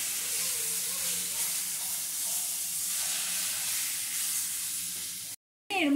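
Taro sizzling and frying with turmeric and salt in hot oil, a loud, dense, steady hiss close up that cuts out briefly near the end and then returns.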